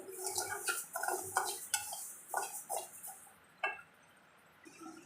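Freshly fried food, cooked until golden, being moved into another bowl in a home kitchen, heard as a run of light clinks, scrapes and taps of metal utensils against cookware, close by and fairly quiet with short pauses between.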